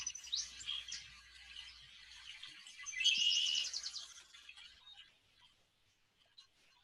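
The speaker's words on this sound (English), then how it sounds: "something in me is delighted with the bird sounds that I assume others are hearing" Birds chirp and sing in quick, high twittering phrases, with a denser burst of song in the middle before thinning out; the calls sound moderately distant and stand alone without talking.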